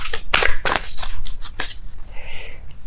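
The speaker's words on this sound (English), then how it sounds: "I'm going to be shuffling until I have a popping card here." Tarot cards being shuffled by hand in a quick burst of crisp riffling snaps and slaps, loud and close, tapering into softer rustles.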